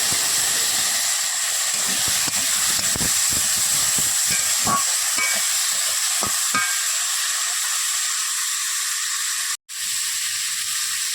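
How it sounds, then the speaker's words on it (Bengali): Potato pieces fry in hot oil in a kadai, producing a loud, continuous hiss and sizzle with scattered crackles and stirring clicks. A brief drop near the end interrupts the steady sound, and no one speaks. "এই তেলের ভিতর আলু কটাটা ভেজে নেব"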